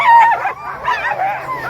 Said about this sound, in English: We got dogs bouncing everywhere.